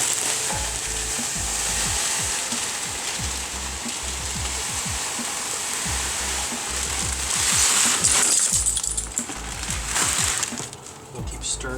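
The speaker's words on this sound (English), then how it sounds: "We'll keep stirring it in as we do." Grain is stirred into the mash for an all-grain pumpkin ale, making a continuous wet sloshing and rustling rush with faint scraping. A voice speaks over it.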